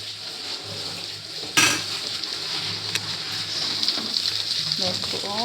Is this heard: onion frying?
yes